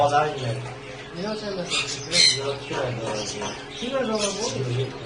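Harsh squawks and chattering bird calls come in irregular bursts, fairly close, mixed with people talking in the background.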